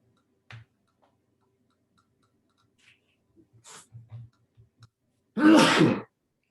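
A single sharp sneeze bursts out near the end after a few faint ticks and small noises in an otherwise quiet room.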